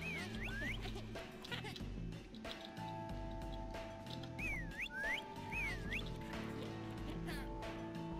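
Short rising-and-falling whistle calls from a character in the video game The Last Tinker, three or four quick tuneful chirps over a game soundtrack's steady drone and low hum, with someone talking now and then.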